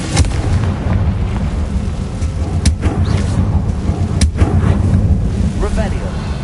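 Fiery Confringo spell blasts in Hogwarts Legacy, sharp booming explosions at intervals over a constant rumbling background, with a voice briefly present.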